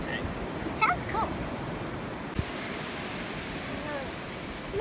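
Sea waves at the seaside make a steady broadband wash of surf with wind buffeting the microphone, and a voice comes briefly over the top.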